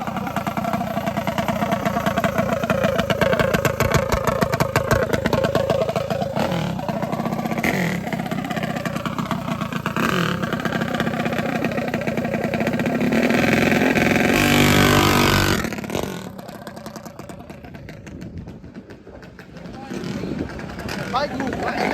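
A mini bike engine with a billet cylinder head runs loud and close, its note rising and falling as it revs, then dropping off toward the end while voices shout and talk over it.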